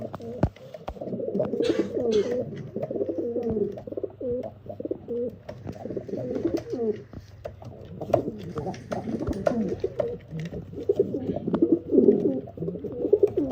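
Pigeons coo steadily over a busy background of bird sounds from a group of high-quality birds kept for sale in Bangalore, with soft murmuring calls overlapping throughout and occasional sharp clicks and flutters nearby.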